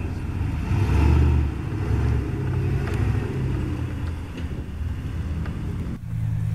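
A Jeep Comanche crawling over rock obstacles on a Moab trail, its engine rumbling low and steady with rising revs and a bump before easing off, close and continuous.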